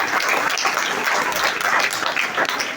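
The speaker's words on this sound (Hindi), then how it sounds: "तालियां बहुत कम थी चर्च, जोरदार तालियां अपने खुदा के नाम के लिए" Church congregation applauding during a Christmas Eve service, a steady wash of many hands clapping throughout, moderately loud and close.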